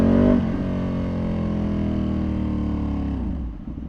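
A tuned Ducati Panigale V2 engine on a street ride holds a steady, strong drone that sags in pitch, then drops away as the throttle eases, loud and close with no voices.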